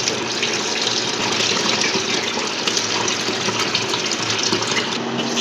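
Parboiled rice being washed for biryani under steadily running water, a continuous close splashing and gushing with no break and no voices.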